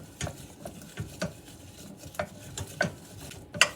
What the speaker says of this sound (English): I'm gonna let this cook down, stirring occasionally for the next 5 minutes.